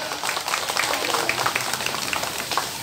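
A crowd claps steadily throughout a local community gathering in Sam Phran district, Thailand, producing a dense, moderately loud patter with no speech over it.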